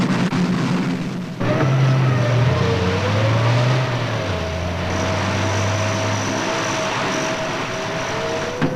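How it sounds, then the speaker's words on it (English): Hercules propeller aircraft engines drone steadily and loudly nearby, a continuous throbbing roar with a slight shift in pitch partway through and no voices. "The Hercules aircraft was designed to operate on the sort of rough terrain in which many of these forward landing strips are likely to be found."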